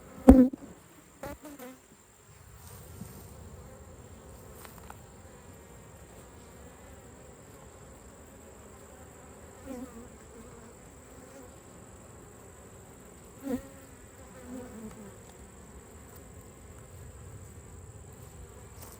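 A low, continuous droning buzz of many honey bees around an open hive fills the clip, with a few brief clicks and taps near the start and scattered later.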